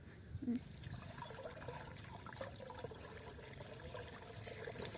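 Water is poured into a container with a steady splashing trickle that runs throughout, fairly close and moderately loud, with a brief brighter splash near the start and a low background hum underneath.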